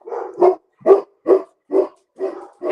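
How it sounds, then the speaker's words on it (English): Dogs barking close and loud, a run of about seven sharp barks in a steady rhythm with brief gaps, no one talking. "And the dogs start barking."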